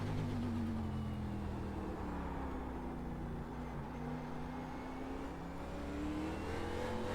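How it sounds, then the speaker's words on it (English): A NASCAR Cup car in iRacing holds a steady droning engine note on the Daytona road course, the pitch dipping briefly as it short-shifts into second and then climbing again as it pulls away. "Little short shift into second to limit wheel spin."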